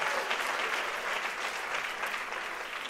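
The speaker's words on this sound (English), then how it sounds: "Let's give them all a round of applause." Sustained audience applause fills an awards ceremony hall, a dense steady clapping from a large crowd that holds at an even level throughout without letting up.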